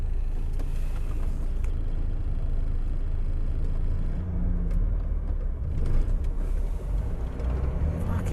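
A car engine rumbles steadily as the vehicle drives and drops into second gear while coasting, with a continuous low drone and a short surge near the middle, close and fairly loud.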